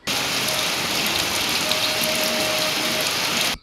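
Steady rain pours down around a quiet street market in Siliguri, a dense, even hiss of drops on surfaces that holds constant from start to finish with no voices.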